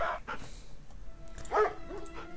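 Attack dogs in Red Alert 3 give a few short barks and yips at moderate distance, scattered among game sound effects, with no one speaking.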